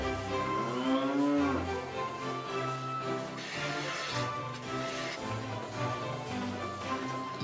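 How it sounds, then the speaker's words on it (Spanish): Dairy cows fed on natural pasture and alfalfa moo repeatedly, long low drawn-out calls overlapping in a barn or pasture setting with steady background noise. "Las vacas lecheras alimentadas a pasto natural y alfalfa son cuidadas hasta el extremo de ordeñarlas con un fondo de música clásica"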